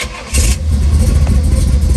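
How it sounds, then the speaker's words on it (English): A 1969 Pontiac GTO clone with gear drive cranks and fires up, settling into a loud, close, rumbling idle with a deep steady low-end throb. "I'll go ahead and start it up"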